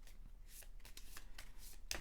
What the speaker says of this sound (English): let me shuffle this back up